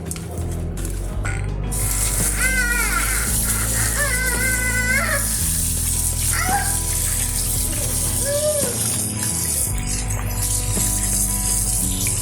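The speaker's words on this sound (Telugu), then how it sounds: "చేపల్ని ఫస్ట్ క్లీన్గా వాష్ చేసుకుందాం సాల్ట్ వేసి." Fish pieces are washed with salt in water in a home kitchen, giving loud, continuous splashing and sloshing over background music.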